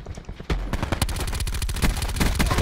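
Rapid bursts from a Daemon 3XB submachine gun with a rapid-fire attachment in Black Ops 4, sharp close shots in fast rhythmic strings with brief pauses between bursts.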